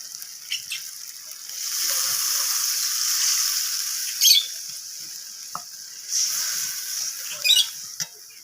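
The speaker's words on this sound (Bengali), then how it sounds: "যতটা গ্রেভি হবে সেই অনুযায়ী আমি জলটা এখানে দিয়ে দেব" Water from rinsed spice bowls poured into fish curry gravy in a hot pan, a steady soft sizzle and bubbling hiss with a few small pops, fairly quiet and without talk.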